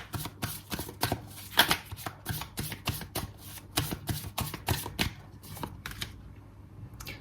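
Tarot cards shuffled and drawn, a rapid run of crisp riffling snaps and slaps, close and moderately loud, continuing steadily with no talking.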